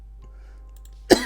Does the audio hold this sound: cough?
yes